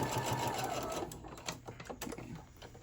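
A sewing machine stitches down the side seam of a fabric tote bag, a steady close motor whir for about a second before breaking into short uneven bursts of stitching.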